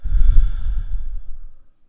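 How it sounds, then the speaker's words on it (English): A single deep, slow exhale during guided relaxation breathing, close and soft, fading out after about a second and a half with no talking. "Breathing in and out, and just letting go of any stress and anxiety"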